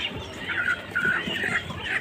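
Chickens cluck in short, close, repeated bursts at a Tuesday bird market, several birds calling over each other with a faint murmur of market noise behind.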